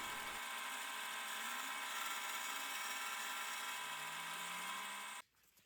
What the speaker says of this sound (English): The lathe tools do a reasonable job of cutting wood, this hard anyway